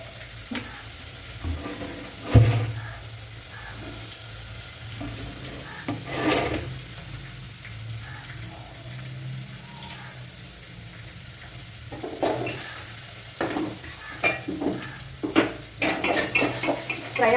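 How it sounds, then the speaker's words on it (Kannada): Green chillies and onions fry in a pan, a steady soft sizzle broken by scraping stirs and the occasional sharp clank of a metal spoon against the pan. No one speaks. "ಫ್ರೈ ಆಯಿತು ಮೆಣಸಿನ್ಕಾಯಿ ಮತ್ತು ಉಳ್ಳಾಗಡ್ಡೆ."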